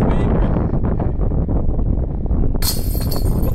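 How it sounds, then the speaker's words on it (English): Strong headwind buffets the microphone outdoors on a disc golf course, a loud continuous low rumble with gusty roar throughout, brightening into a hiss near the end. "Oh gosh, the wind. That headwind, man."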